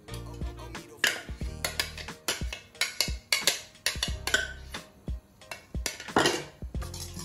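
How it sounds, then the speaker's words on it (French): Curry paste, curry powder and coconut milk being mixed for a shrimp marinade, heard as irregular clinks and scrapes of a utensil against a bowl, close and fairly loud, with no voice. "Je vais faire mélanger la pâte de curry, la poudre de curry et le lait de coco."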